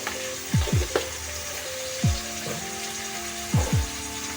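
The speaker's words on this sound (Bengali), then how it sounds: "সবজিগুলো ভালো করে ভেজে নেবো" Mixed vegetables frying with turmeric in a pan for spicy, tangy Maggi, a steady close sizzle broken by three pairs of sharp scraping stirs spaced evenly apart, no voices.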